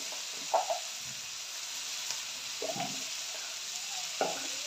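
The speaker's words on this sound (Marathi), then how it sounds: "आता ही आपली भोपळीची पानं टाकायची ह्याच्यामध्ये।" Pumpkin leaves frying in a hot pan with a steady low sizzle and a few scraping stirs of a spatula every second or so, no voices.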